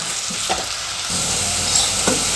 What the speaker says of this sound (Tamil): இப்போ வெங்காயம் ஓரளவுக்கு கலர் சேஞ்ச் ஆகி வதங்கிக்கிட்டு இருக்குங்க.